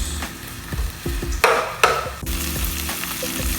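Garlic frying in a little cooking oil for pork adobo sizzles steadily up close while a utensil stirs and scrapes the pan in short strokes, with no voices.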